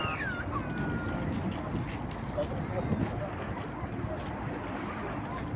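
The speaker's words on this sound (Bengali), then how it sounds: "সমুদ্রের গর্জন শুনতে পাচ্ছেন।" Wind-blown sea at a beach gives a steady, broad roar of surf mixed with buffeting wind, fairly faint and constant throughout, with no talk heard.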